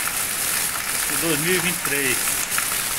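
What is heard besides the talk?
rain falling in Porto Alegre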